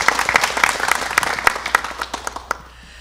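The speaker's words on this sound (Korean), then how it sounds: "큰 박수 부탁드립니다." Audience applause for a professor after a lecture on infectious diseases in North and South Korea, a loud, dense clatter of many hands that thins into scattered separate claps and fades out near the end.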